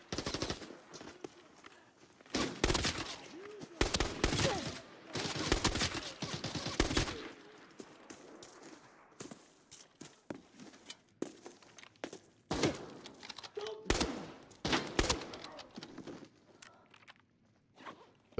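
Sharp bursts of sniper and automatic gunfire in a video game, loud, close crackling volleys in clusters with short gaps between them, alone without talk.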